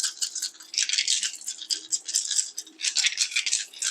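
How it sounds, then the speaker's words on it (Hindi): Dice rattle and click as they are shaken, in quick bursts that repeat over a few seconds and sound close and fairly loud. "डाइस रीडिंग करेंगे और डाइस की आवाज़ पे आपको फोकस करना है"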